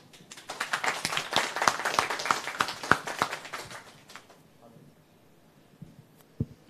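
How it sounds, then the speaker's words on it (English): A conference audience applauds with dense clapping that swells for about four seconds, then fades into quiet room noise with a couple of stray claps. "I think they deserve a round of applause"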